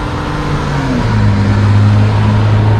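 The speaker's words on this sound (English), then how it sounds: "the cars here are so goddamn loud" Loud, steady roar of city road traffic in Boston or New York heard while walking, an engine droning close by, pitch shifting slightly as a vehicle passes; no talking.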